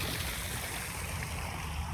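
Running water flows steadily in a botanical garden in Memphis, a continuous close rushing and trickling with no break and no voices.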